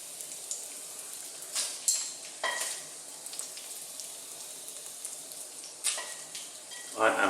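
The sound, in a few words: bacon sizzling on buttered bread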